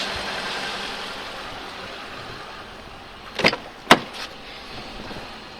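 Power windows of a Mercedes C55 AMG run inside the car: two short motor whirs close together in a quiet cabin with a faint steady background hum and no talking.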